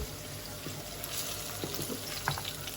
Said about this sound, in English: we have it on medium heat and we're just waiting for the seasoning to saute